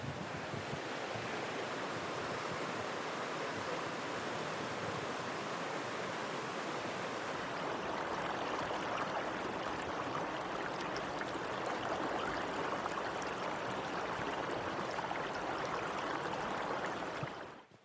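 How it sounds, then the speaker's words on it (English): The River Par in the Luxulyan Valley, Cornwall, rushes steadily and loudly, a continuous broadband roar with no voices. "we've got the River Par rushing behind us"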